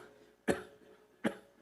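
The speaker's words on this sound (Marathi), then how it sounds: "साधा खोकला" A simple, ordinary cough, demonstrated by a preacher during a Marathi kirtan: two sharp, close coughs about three-quarters of a second apart, with quiet room tone between them.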